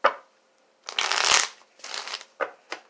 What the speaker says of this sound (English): I'm just getting them shuffled because I need to.